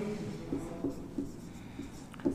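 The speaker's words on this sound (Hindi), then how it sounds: "देखिए मैं इधर लिख रहा हूं" Chalk or marker strokes during a maths lesson, heard as a string of short, regular scratches and taps about every third of a second, faint against a low background hum.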